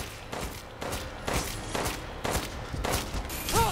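Repeated gunfire from Resident Evil Village, roughly seven evenly spaced shots cracking out about every half second, each with a short echoing tail, loud and close with no talking.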